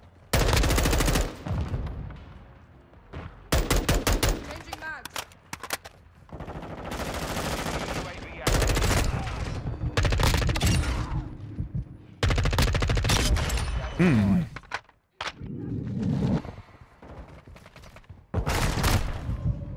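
Sustained bursts of gunfire from the video game Modern Warfare 2, loud, close rapid volleys broken by brief pauses, with occasional faint speech underneath.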